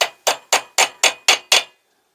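A hammer strikes a steel punch seven times in a steady, even rhythm, dimpling steel for a 7.25 inch gauge BR Standard 2 locomotive build. Each blow rings sharp and close, then dies out before the next.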